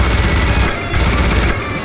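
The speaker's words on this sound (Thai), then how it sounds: "ใช้ปืนยิงเลยแล้วกัน" Gunfire in a video game, a dense loud barrage of rapid shots and bursts running continuously through the whole stretch, with no voices over it.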